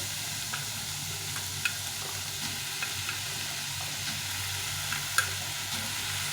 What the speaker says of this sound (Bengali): এখন আমি দিয়ে দেবো এই পেঁয়াজ কুলিটা